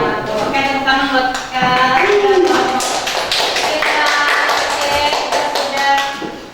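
A class group is applauded during a classroom science presentation, with a quick burst of claps rising over voices and chatter that continues loudly throughout.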